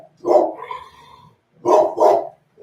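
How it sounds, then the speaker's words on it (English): A dog barks indoors in three loud, close barks: one single bark, a pause, then a quick double, with no talk over them. "Linka literally just barked so Fats would get up and go to the window like a black ass."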